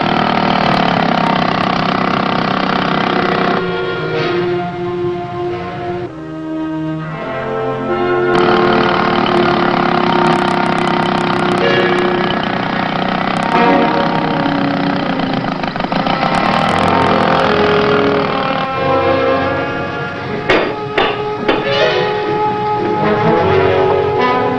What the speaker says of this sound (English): Listen to that outboard, Captain.